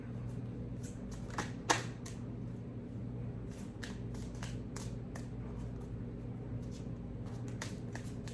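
A deck of playing cards is shuffled and handled up close, with crisp riffling bursts, snaps and soft flicks scattered over a faint steady background hum, no voices.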